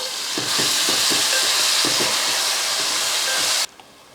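Yogurt and biryani masala being stirred in an aluminum biryani pot, with a loud continuous sizzle and a series of rhythmic scraping strokes that stops abruptly near the end, with no talking.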